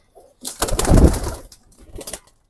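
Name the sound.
pigeons cooing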